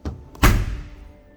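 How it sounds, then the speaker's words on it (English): Heavy-duty insulated baggage door on a 2023 Forest River Cedar Creek 388RK2 fifth wheel RV closing: a light click, then one solid, close thunk that fades quickly. "Thicker baggage doors, heavier duty baggage doors for better insulation."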